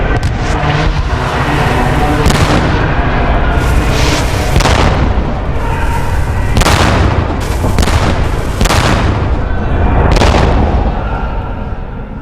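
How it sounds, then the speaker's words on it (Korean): Cannon fire and battle noise: loud, repeated booms burst out at irregular intervals over a continuous heavy rumble, with no pause throughout. "전투의 시끄러운 소음과 자욱한 연기는 이 일을 더 어렵게 만들었습니다"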